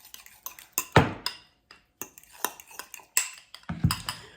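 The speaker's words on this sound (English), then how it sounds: "we're gonna stir that into our guac" A spoon clinks and scrapes against a bowl while garlic is stirred into guacamole, giving a run of short, close, uneven knocks and scrapes with brief pauses between them.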